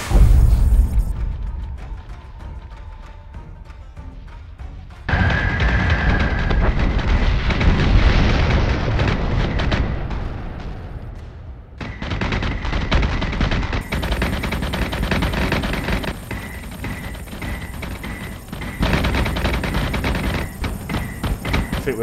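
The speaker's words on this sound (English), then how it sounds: "Our ship's exploding left and right." Ships explode in the space combat video game Battlestar Galactica Deadlock: heavy booming blasts and rumbling detonations with rapid gunfire crackle, loud and dense, in sustained waves that come back after a brief lull.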